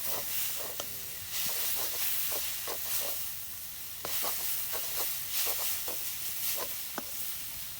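Kumli greens fry in oil in a pan with a steady sizzling hiss, broken by brief crackles and pops, close and moderately loud.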